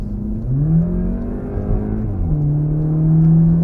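A car accelerates hard on the Nürburgring Nordschleife, its mid-pitched engine note rising steadily through the gears, loud and close from onboard, with a brief dip around a shift before climbing again.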